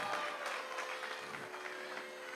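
Audience clapping after a classical music tribute concert, a faint, even wash of many hands that sounds distant and subdued.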